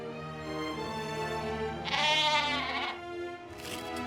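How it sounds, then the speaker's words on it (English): A sheep in the video game The Book of Unwritten Tales 2 bleats loudly in a wavering, drawn-out cry, then gives a shorter bleat, over a steady synthetic musical hum. "This is Fridolin, my rabbit sheep."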